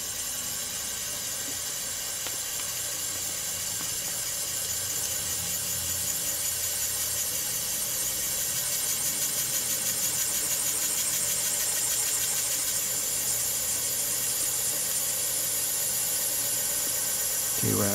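An N machine, a spinning-magnet motor run from a DC power supply, makes a loud, steady high-pitched whine and hum that rises gradually in pitch as it speeds up.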